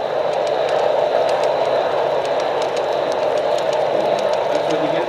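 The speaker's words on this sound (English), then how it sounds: "Here comes the end with a nice Santa Fe caboose car." HO scale Santa Fe model train with a caboose at the tail rolls past steadily, a continuous close rumble with faint rhythmic rail clicks throughout.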